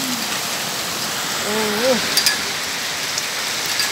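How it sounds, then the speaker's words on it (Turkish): Steady heavy rain in Eskişehir, Turkey, during a thunderstorm hisses loudly and evenly throughout, with a brief voice murmuring partway through and a few faint clicks. "Çok kötü yağıyor."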